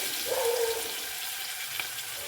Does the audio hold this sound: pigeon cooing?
no